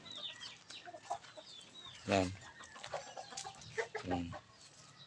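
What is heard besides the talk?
fighting roosters clucking on their tethers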